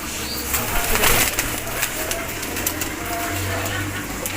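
Pigeons in a breeder's loft coo in low, sustained rumbles, with faint rustling and wing movement over a steady background.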